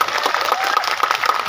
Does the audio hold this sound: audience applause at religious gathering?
yes